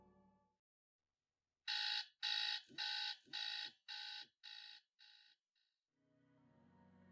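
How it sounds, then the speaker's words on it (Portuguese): An alarm clock rings in a clear electronic beeping pattern, about eight evenly spaced loud beeps that shorten and fade toward the end, heard close and alone in an otherwise quiet room. "acordando apenas novamente com o despertador"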